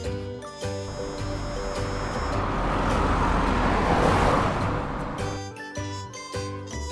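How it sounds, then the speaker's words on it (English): A large city bus driving through traffic, its engine a steady broad rumble that swells to a peak mid-way and then eases off, with tonal hum and steady road noise throughout. "A city bus is a large bus that takes many passengers around the city on"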